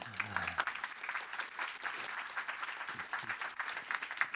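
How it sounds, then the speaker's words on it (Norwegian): Applause from an audience at a biotechnology advisory board presentation, fairly faint and distant, a thin steady patter of clapping after a brief bit of voice at the start. "Applaus."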